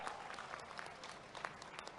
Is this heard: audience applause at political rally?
yes